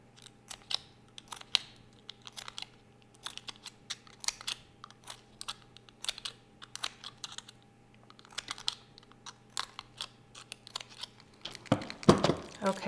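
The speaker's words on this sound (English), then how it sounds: "where each one of these lines are, I'm going to make a little snip" Scissors make a run of small, crisp snips into a discarded plastic soda bottle, sharp irregular clicks spaced across several seconds, heard close, ending in a louder crinkling rustle of the plastic.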